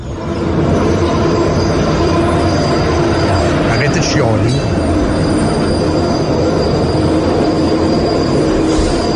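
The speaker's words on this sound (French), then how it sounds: "Juste pour vous passer un bruit de tramway" Electric tramway rolling past at close range, a loud steady rumble of wheels on rails with a brief squeal midway, continuous throughout, with a voice speaking briefly over it.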